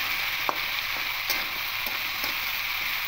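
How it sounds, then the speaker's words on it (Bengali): Ridge gourd and potato fry with turmeric and salt in a pan, a steady bright sizzle punctuated by several short clicks of a spatula stirring against the pan. "হলুদ আর লবণটা দিয়ে আরেকটুখানি ভেজে নেব, হলুদের কাঁচা গন্ধটা চলে যাওয়া পর্যন্ত।"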